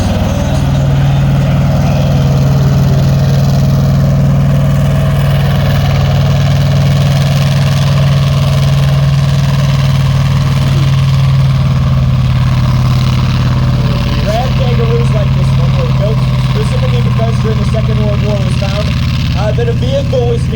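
The engine of a Ram Kangaroo armoured personnel carrier runs loud and steady with a deep constant drone at an outdoor military vehicle display, while a crowd and voices murmur faintly underneath.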